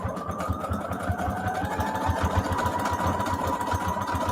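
A sewing machine sews a long fancy stitch between layers of fabric scraps on a junk journal cover, a steady rhythmic mechanical whir with a fast even pulse that runs unbroken up close.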